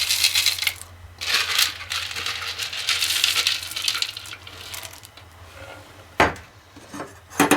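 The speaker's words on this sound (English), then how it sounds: "Just going to add in 2 cups of frozen corn." Two cups of frozen corn kernels tumble into a skillet, a bright, scattered rattle of hard pieces hitting the pan that swells in bursts, then quiets before a few sharp clatters near the end, with no talking.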